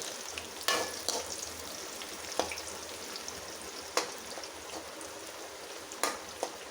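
Chopped onion and chili frying in a pan for a Kerala-style thoran, a soft, steady sizzle close by, broken by a few sharp stirring knocks.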